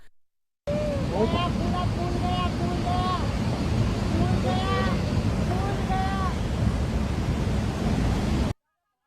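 Flash flood surging through a Himalayan village, a loud continuous roar of rushing torrent water and wind under shouting voices, sustained for most of the clip after a brief silent start.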